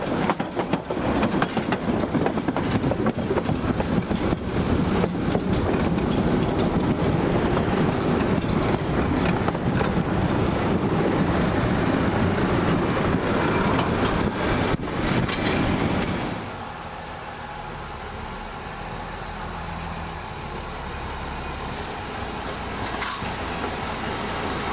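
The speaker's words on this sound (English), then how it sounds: "The locomotive rounds its train ready for the journey south" A Hungarian branch line locomotive runs around its train, rolling rumble and clatter loud and close for about sixteen seconds, then dropping to a lower steady idle drone.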